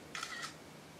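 Camera shutter sounds from a 5th generation iPod Touch, two quick faint clicks about a quarter second apart in a quiet room.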